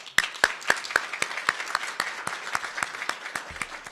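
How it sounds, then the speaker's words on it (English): A small crowd applauds, steady overlapping claps at a brisk pace, fairly close, with no talking. "Round of applause."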